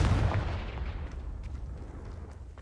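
A Confringo fire spell blast in the Hogwarts Legacy video game: a loud, deep boom at the start that rolls off into a fading rumble with faint crackles, heard alone without any voices.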